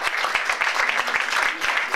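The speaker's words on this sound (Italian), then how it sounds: "Un applauso" An audience applauds in a dense patter of clapping, loud and steady, lasting about two seconds.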